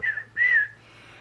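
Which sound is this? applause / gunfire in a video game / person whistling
person whistling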